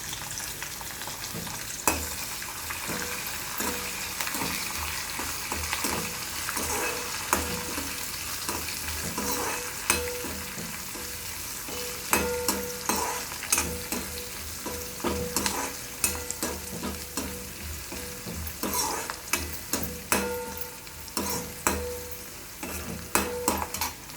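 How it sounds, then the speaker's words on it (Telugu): Onion pieces and curry leaves fry in a pan for brinjal stir-fry, with a steady close sizzle and frequent scraping stirs that grow busier toward the end, and no talking. "ఉల్లిపాయ ముక్కలు, కరివేపాకు వేసుకొని కొద్దిగా వేయించుకోవాలి."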